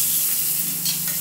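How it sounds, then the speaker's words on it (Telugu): Onions frying in hot oil in a pan, a steady close sizzle with faint stirring, alone without talk. "ఇప్పుడు నూనె కాగిందండి. దీంట్లో ఉల్లిగడ్డలు,"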